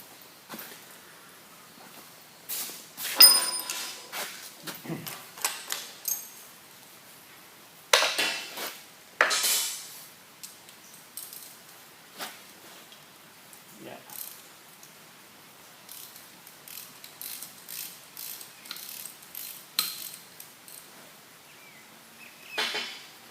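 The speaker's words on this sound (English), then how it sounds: "Now we'll take these two bolts out" Bolts being undone on a JFMT 530 x 2000 lathe, a run of scattered metallic clicks, ratcheting taps and clunks of a spanner and loose parts, fairly close and uneven, with no talk.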